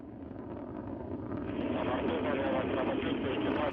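Soyuz rocket at liftoff, its four strap-on boosters and single core engine burning liquid fuel and delivering 930,000 pounds of thrust: a broad, steady roar that swells after the first second and holds loud, with a voice talking over it.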